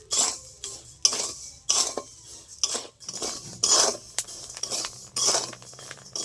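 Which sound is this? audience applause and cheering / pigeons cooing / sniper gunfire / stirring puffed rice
stirring puffed rice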